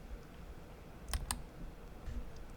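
Computer mouse clicks during spreadsheet work, two quick faint clicks close together over a quiet room hum, no talk.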